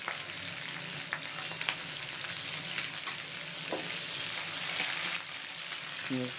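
Chopped green chillies fry in hot oil in a pan for lemon rice (chitranna), giving a steady close sizzle with a few light clicks of stirring and no talk.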